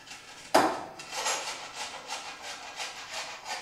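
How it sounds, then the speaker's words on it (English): Fresh ginger rubbed against a kitchen grater, opening with a sharp clatter followed by rhythmic scraping strokes, close and fairly loud. "You also grate the ginger."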